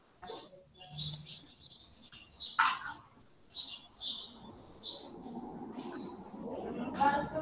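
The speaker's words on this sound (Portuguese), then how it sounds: "Lasca a baladeira desse passarinho aí, música. Tá meia hora cantando." Small bird singing in short, bright chirping phrases repeated at intervals, with a faint murmur of background noise and a brief voice partway through.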